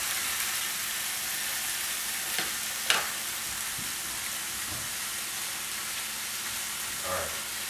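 Glazed salmon frying in a pan makes a steady, dense sizzle throughout, with a few faint scrapes and taps from moving the fish.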